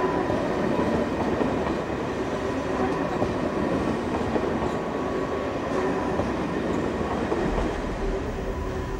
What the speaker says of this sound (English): a direct Paris to London Eurostar is seen departing from the International Station